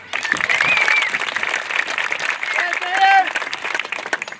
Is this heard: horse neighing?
no